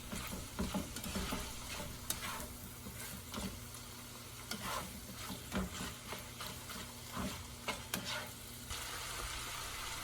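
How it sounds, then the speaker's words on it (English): Seasoned meat sizzling in a pan while being stirred, quiet but steady frying with repeated scrapes and clicks of the utensil throughout, no voices. "Okay, so let's get this all stirred up. Okay, and let it cook here just for a couple minutes."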